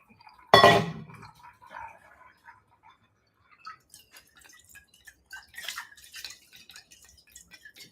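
Water splashes through a paper coffee filter in a brewer, opening with a loud pour burst followed by quieter drips and clinks of glass and kitchenware.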